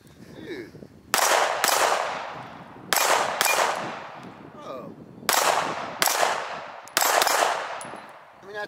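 Loud pistol shots from an Alien handgun ring against a 6-inch steel plate at 15 meters, seven sharp cracks in uneven pairs, each followed by a long metallic ringing decay.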